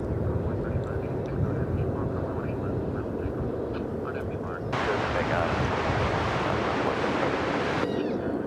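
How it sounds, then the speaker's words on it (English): A fixed-wing aircraft roars at DFW Airport with a broad, rushing drone and wind buffeting, while a person talks over the engine noise. "It is a beautiful aircraft."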